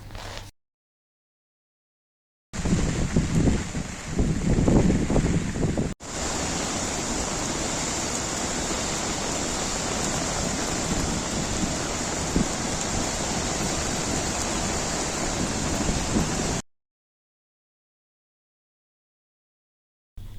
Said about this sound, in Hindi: प्रोजेक्ट के 4 दरवाजे खोल दिए गए हैं। यहां से पानी का इखराज अमल में लाया जा रहा है।